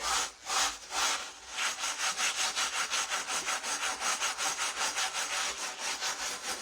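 Rust is scrubbed off a cast iron skillet with fast, regular back-and-forth scouring strokes, loud and close, after a couple of slower opening rubs and with no talking.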